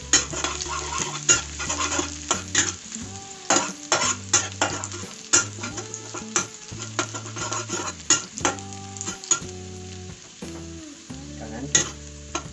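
Garlic fries in a pan for garlic pepper shrimp, with constant sizzling and repeated sharp metallic scrapes and clanks of a utensil stirring against the pan, close and fairly loud.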